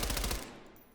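Rapid automatic gunfire in the video game Call of Duty, a short loud burst of quick rattling shots that cuts off and fades within a second.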